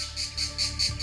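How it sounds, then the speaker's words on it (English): A loud, steady high-pitched insect buzz pulsing in regular waves about every fifth of a second, continuous throughout with no voices. "Each species of cicada has a unique sound,"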